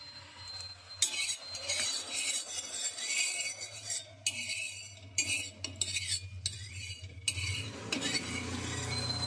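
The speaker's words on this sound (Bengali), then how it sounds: "এখানে আমি একটা তাওয়া বসিয়ে দিয়েছি গরম হওয়ার জন্য আর সাদা তেল আমি তাওয়াতে মাখিয়ে নিচ্ছি" White oil is spread across a heating tawa griddle in close, irregular scraping and rubbing strokes with a faint sizzle between them, and no one speaks.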